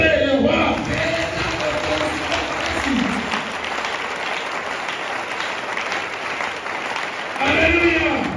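A church congregation claps and cheers during a Sunday service, with sustained dense applause and crowd voices that swell again toward the end while a voice speaks over it.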